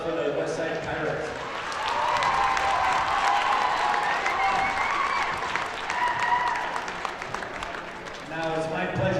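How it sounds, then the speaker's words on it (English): Sustained crowd applause for the Westside Pirates girls basketball team at a district tournament gym, a steady wash of clapping with scattered cheers, loud and continuous throughout, and voices audible within the noise. "Let's have one more round of applause for the Westside Pirates."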